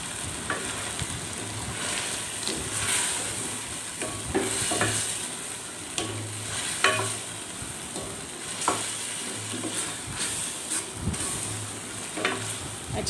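Chicken karahi stirred in a pan with red chilli powder, salt, black pepper, cumin and turmeric: continuous close sizzling under repeated scraping strokes of a spoon, with sharp clinks against the pan every second or two.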